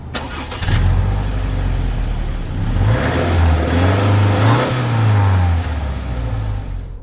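A 2022 Subaru Forester Wilderness with a naturally aspirated 2.5-liter four-cylinder boxer engine, heard on the road: a steady engine drone rising and falling in pitch as it accelerates through gears, with tyre and wind noise underneath.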